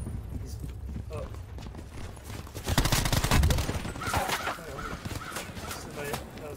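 Bursts of distant gunfire crack in a video game, quick clustered shots peaking midway, while people talk over them.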